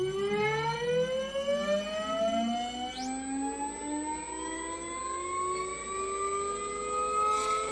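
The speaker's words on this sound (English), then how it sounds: "This test shows the actual output power of the generator." A three-phase permanent magnet generator driven by a synchronous motor spins up, its whining tones climbing steadily in pitch, with a high steady whine jumping in partway, loud and continuous without talk.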